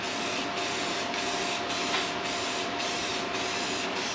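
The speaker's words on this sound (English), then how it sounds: "we're just going to go ahead and spray it with this, it's a lacquer, Rust-Oleum lacquer finish, like a clear coat" Rust-Oleum clear lacquer sprayed from an aerosol can onto a barrel-made tree collar outdoors: a continuous close hiss broken by brief pauses in a steady rhythm, roughly every half second.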